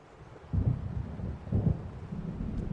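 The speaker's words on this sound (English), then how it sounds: "It seems there's a storm coming." Thunder rolls in as a storm approaches in Alan Wake Remastered: two deep rumbling swells, then a sustained low growl, heard alone with no talk.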